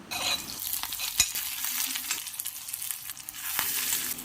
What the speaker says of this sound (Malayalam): 2 ടേബിൾ സ്പൂൺ വെളിച്ചെണ്ണ ഒഴിച്ച് ചൂടായ ശേഷം അതിലേക്ക് 1/2 ടീസ്പൂൺ കടുക് ഇട്ട് പൊട്ടിയ ശേഷം 4 ചുവന്നുള്ളി അരിഞ്ഞത്, 1 വറ്റൽമുളകും കൂടെ മുറിച്ച് ചേർക്കാം.